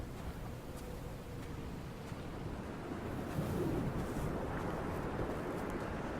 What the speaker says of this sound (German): Oh, man hört aber, es ist ziemlich windig.